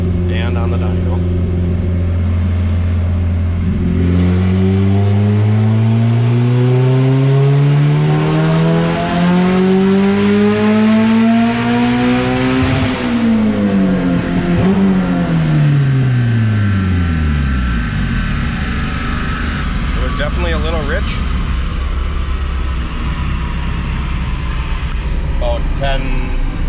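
Turbocharged B16A engine in an EK Honda Civic on a dyno, revving hard through a long rising pull to a screaming peak, then falling away as it comes off throttle, loud and close.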